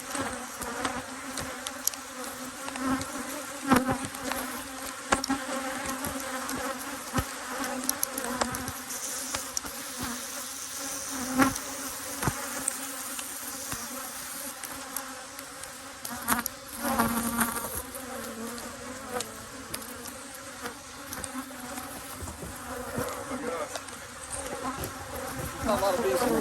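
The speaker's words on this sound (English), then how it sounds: "All these bees stinging me are dying. Not a lot of them are stinging, but they're swarming me." Honeybees swarming around a beekeeper pulling honey supers from a hive, a dense close buzzing drone with individual bees whining past the ear over nearly half a minute.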